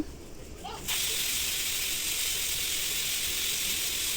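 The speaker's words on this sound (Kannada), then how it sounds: "ಈಗ ಒಂದು ವಿಸಿಲ್ ಬಂದಾಗಿದೆ" A pressure cooker cooking avarekalu saaru, a hyacinth bean curry, suddenly lets off steam through its whistle. After a quiet moment, a loud, close, continuous hiss starts and holds steady to the end.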